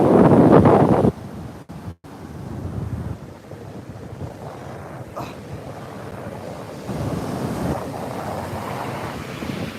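Ocean surf at Montara State Beach, California, washes in and out under gusting wind buffeting the microphone, loud at first, then easing before swelling again.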